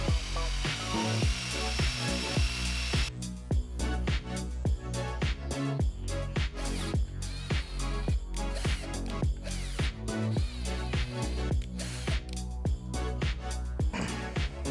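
Rapid metallic ratchet clicks and tapping from a ratchet wrench tightening fixing bolts on the drive housings of a lathe, a busy, continuous rhythm of sharp close clicks throughout.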